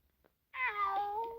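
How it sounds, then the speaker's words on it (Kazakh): A single cat meows once, a clear, drawn-out call that rises and then slowly falls, close and fairly loud, after a brief quiet start. "Ұйықтамаңдар, мысықтар. Мияулама бол."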